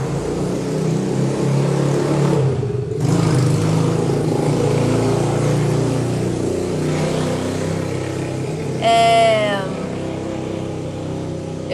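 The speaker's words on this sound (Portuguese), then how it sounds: "Vou esperar a moto passar" A motorcycle passes on the street outside, a steady engine drone holding through the whole stretch at moderate distance, with a brief whistling tone near the end and no talk.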